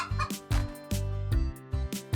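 Cartoon chickens on a farm cluck in short, bouncy bursts, several quick clucks in a row sounding close and moderately loud, with no speech.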